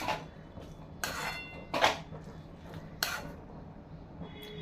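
Milk and freshly grated coconut being mixed in a pan with a metal spoon, several separate clinks and scrapes against the pan in an irregular rhythm, close and moderately loud; no voices.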